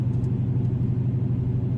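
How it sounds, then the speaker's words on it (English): Dodge Charger or Challenger running a Jay Greene Racing tune accelerates hard, its engine a loud, steady low rumble close by that holds throughout without a clear audible shift break. "the shifts on this car are like on point every time."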